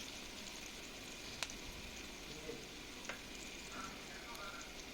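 Chopped green chillies with salt frying in a pan, a faint, even sizzle close by, with a few sharp taps from stirring.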